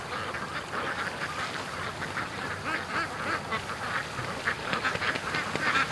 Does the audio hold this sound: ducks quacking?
yes